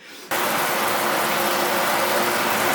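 Shower water spraying onto a sheet of stone paper to imitate heavy rain, starting abruptly as a loud, dense, steady hiss of spray and patter close by.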